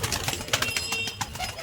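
A male Kaldoma pigeon among a collection of pigeons, giving soft, faint, fluttering and cooing sounds in quick irregular bursts against a light background hiss.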